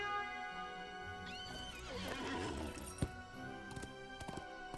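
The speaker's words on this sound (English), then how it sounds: "So I think we get on the war steed." War steed horse in the LOTRO video game giving a loud, close neigh, followed by a clatter of hooves and a sharp clink, over a soft hum of background music.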